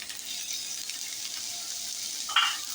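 Sliced bell peppers of three colours hit a hot pan while cooking a white sauce pasta, giving a soft, steady sizzle with a brief sharper crackle near the end, fairly quiet and with no voices.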